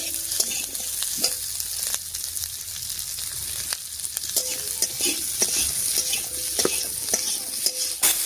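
Onion and capsicum frying in a pan, a bright, constant close sizzle with frequent clinks and scrapes of a spoon stirring throughout.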